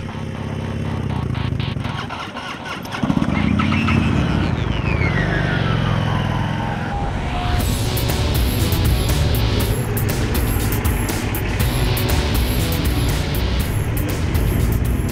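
2015 Harley-Davidson motorcycle engines roaring up close on a road test ride, one revving with a rising whine, then a steady loud drone as the bikes ride along the road.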